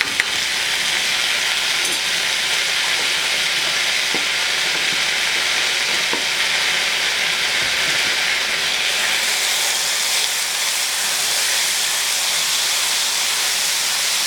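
Garlic frying in a pan for a spiced shrimp stew, a loud continuous sizzle and hiss that holds steady throughout, with a few faint stirring knocks.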